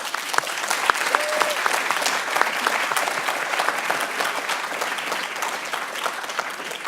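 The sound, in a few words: audience applause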